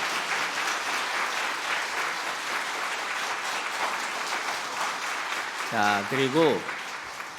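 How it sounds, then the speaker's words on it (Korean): A church congregation at a New Year prayer meeting claps warmly in a dense, steady round of applause, then a voice briefly speaks near the end as the clapping fades. "우리 뜨겁게 한번 우리 격려의 박수부터 먼저 해줍시다."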